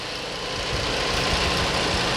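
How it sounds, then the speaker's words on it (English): A car air conditioning compressor runs under the hood while diagnosing AC that blows hot, heard as a steady, loud broadband mechanical hum with low engine rumble beneath it, continuous and close for the whole stretch. "the compressor's running."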